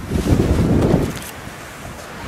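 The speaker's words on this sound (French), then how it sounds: "Donc là il y a du vent" Wind blows strongly across the microphone near beehives outdoors in spring, a loud rumbling gust that eases into a softer steady rush.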